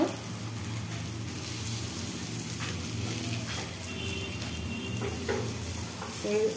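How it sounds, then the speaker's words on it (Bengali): Egg toast frying in a pan after being flipped, a soft continuous sizzle with a low hum and occasional scraping taps. "ওই পিঠটাও ভালো করে ভেজে নেব।"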